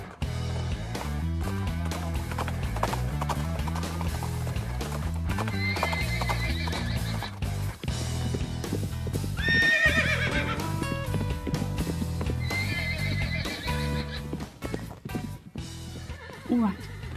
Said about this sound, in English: We've got horses loose!